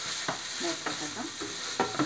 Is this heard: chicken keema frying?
yes